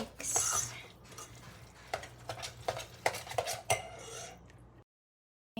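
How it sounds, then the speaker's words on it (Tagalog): A utensil scrapes and clinks against a pan as food with onion is stirred, giving a series of irregular taps and scrapes close up before the sound cuts to silence. "and mix it."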